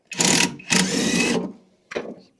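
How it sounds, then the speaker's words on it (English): A rattle gun removes the blade bolt from a lawn mower in two close, loud buzzing bursts and a brief third one. "I use a rattle gun to take things off."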